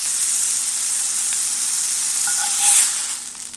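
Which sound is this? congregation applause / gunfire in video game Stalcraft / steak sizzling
steak sizzling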